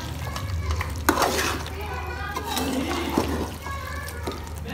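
Spices such as red chilli, turmeric and korma masala are being stirred into mutton korma in a pot, with low continuous sizzling, wet scraping and occasional clinks of the spoon.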